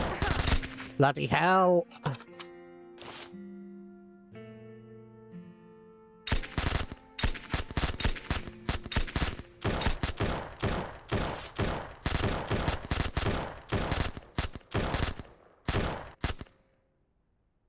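A scoped rifle in SurrounDead fires a long run of sharp, loud shots, single cracks that speed into rapid bursts after an earlier mix of game sounds, with a brief exclamation from a player.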